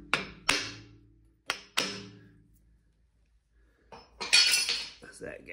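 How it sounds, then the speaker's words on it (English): A hammer strikes a stuck part on a Troy-Bilt rototiller with an old paper gasket, giving two pairs of sharp metallic taps close by, followed by scraping and clattering. "I'm just gonna take a hammer, because it's just stuck on there"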